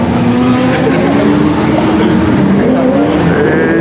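A car engine runs loud and close with rising and falling tones, a strained mechanical whine on top and faint voices underneath.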